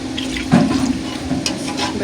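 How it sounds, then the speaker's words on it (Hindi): Water poured into beef nihari masala cooking in a pot, a brief splashing pour lasting about a second over a steady background hum. "ये पानी है थोड़ा सा ऐड करो,"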